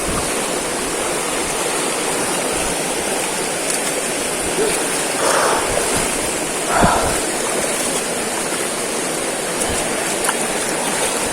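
A strong river current rushing over rocks during a hike toward a waterfall in General Nakar, Quezon, making a loud, continuous roar of water with a few faint knocks and splashes.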